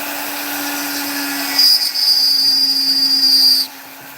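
A power tool with sanding grit works over a wood carving: a steady low hum, then a louder, higher whine for about two seconds as it bites into the wood before stopping, close up and without talk.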